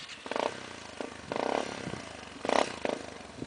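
A trail motorcycle engine revs in short bursts on a dirt trail, three or four rising throttle blips over a low idle, close and fairly loud.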